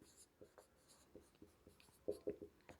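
A pen writing a geometry proof by hand on paper makes soft, close scratching strokes in short bursts, quiet and intermittent with a faint room background.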